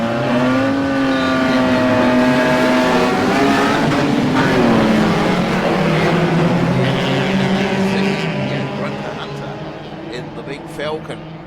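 Race cars accelerating off the start at a Manawatu Car Club round, a big Ford Falcon pulling into the lead ahead of an MX-5, with loud rising engine drones and revs close by under a commentator's voice.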